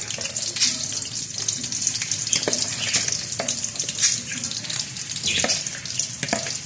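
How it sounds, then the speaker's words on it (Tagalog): Hotdogs frying in a pan over medium heat, a steady close sizzle and crackle with scattered sharp pops running throughout, no voices. "Piniprito ko muna para lutong-luto at saka lumabas yung pinakalasa ng hotdog."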